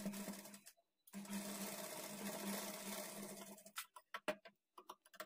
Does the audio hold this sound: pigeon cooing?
no